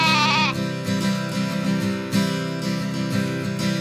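A bleating sheep sound in a comedy country song, a short quavering baa at the start, then the music carries on with strummed accompaniment and a steady beat.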